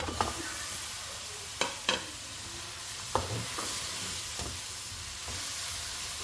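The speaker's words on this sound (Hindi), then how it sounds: "गोश्त को हम भूनेंगे अच्छी तरह से।" Meat frying in masala for pulao, a constant close sizzle broken by several sharp clinks and scrapes from a spoon stirring the pot, with no voices.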